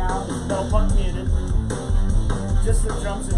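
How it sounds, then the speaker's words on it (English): Recorded drums and a Minimoog synthesizer play together in a dense, loud mix, with steady beats and a thick bass line running throughout without any talking. "Just the drums and mini Moog that I recorded."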